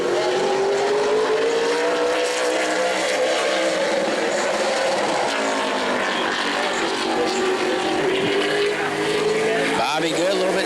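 Super late model race car roaring at speed on track during qualifying at New Smyrna, a loud sustained engine drone with rising and falling pitch as it laps, continuous throughout with a brief dip near the end.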